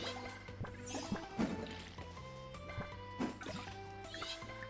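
Crops being watered in Fields of Mistria, a series of soft splashing, dripping and gurgling water sounds over light background music.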